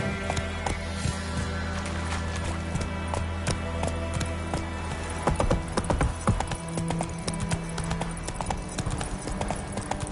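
Hoofbeats of Roach, Geralt's horse in the video game The Witcher 3: Wild Hunt, galloping in a fast steady clip-clop rhythm over a low rumbling game soundscape, close and loud throughout.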